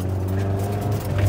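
A Mitsubishi Eclipse GSX on new tires gives a steady, loud low engine drone with road rumble as it drives, with no voices over it.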